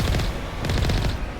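Automated turrets firing in the Mass Effect video game, a dense rapid burst of loud booming gunfire throughout, with no speech.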